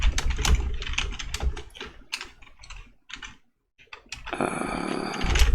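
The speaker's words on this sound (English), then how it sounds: "I love typing and planning in Notepad." Someone types on a computer keyboard in quick, uneven bursts of close clicking keystrokes, then pauses briefly and resumes with more keys and a brighter clatter.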